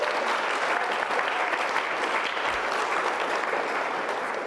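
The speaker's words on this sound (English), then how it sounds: "give yourselves a big round of applause there" An audience at a pitch contest applauds its participants, dense sustained clapping from a crowd that holds steady for the whole stretch.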